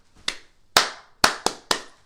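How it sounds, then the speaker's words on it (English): Bare hands clap five times in a loose rhythm, each sharp crack close and alone, with short gaps between the later claps. "clap, clap, clap, clap,"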